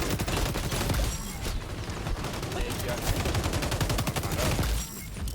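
Sustained rapid automatic gunfire from a no-recoil ACR rifle in the shooter game XDefiant, dense bursts of shots running nearly continuously and loud throughout, easing slightly at the very end.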